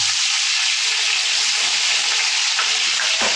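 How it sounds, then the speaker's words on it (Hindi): Ginger garlic paste fries in hot oil for beef nihari, giving a loud, steady, close sizzle that holds without a break. "अब हमने ऑयल में उसी ऑयल में फ्राई कर देना है जिंजर गार्लिक पेस्ट को।"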